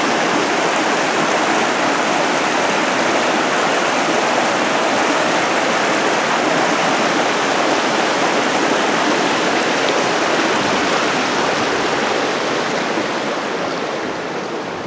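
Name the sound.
Talapus Creek flowing water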